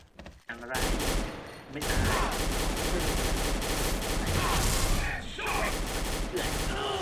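Rapid automatic gunfire from the Silver ARX16 rifle in the shooter game XSHOT, sustained bursts that are loud and dense, broken by a brief pause near the middle, with excited talk underneath.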